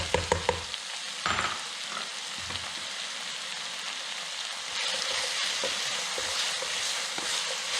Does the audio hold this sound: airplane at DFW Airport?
no